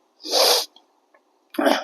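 A voice imitating a sneeze, giving a loud, close breathy burst and then, after a short silence, a second shorter sneeze-like blast, during a Tamil devotional talk.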